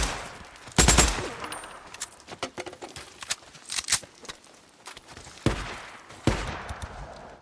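Gunfire in the zombie survival game Days Gone: scattered rifle and automatic shots crack out over several seconds, with a few loud, close blasts among quicker, fainter bursts.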